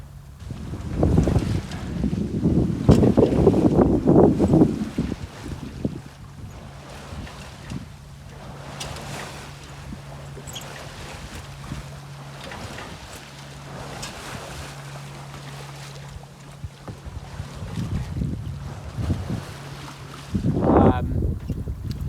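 A sailboat motor-sailing in light wind on the Strait of Juan de Fuca in winter, with a low steady engine hum under gusting wind noise and water sounds.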